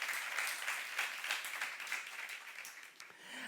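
Applause from a church congregation during a Korean youth-group sermon, a dense, steady patter of many hands clapping, fairly close and sustained before thinning at the end.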